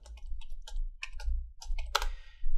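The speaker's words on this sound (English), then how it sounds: "then I just press enter key on keyboard and just type return" Keys are tapped in a scattered, irregular rhythm on a computer keyboard while text is entered into an AutoHotkey script on Windows 11. One sharper, louder keystroke near the end is likely the Enter key. The sound is close and clear, with no talking.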